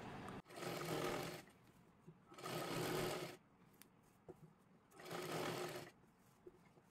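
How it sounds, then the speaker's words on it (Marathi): A sewing machine stitches a kurti top in three bursts of fast, steady whirring, each about a second long, with short quiet gaps between them. "वरच्या बाजूला आपल्याला शिलाई मारत मारत यायचं आहे."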